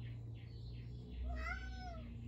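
A house cat gives a single drawn-out meow, soft and somewhat distant, over a steady low hum.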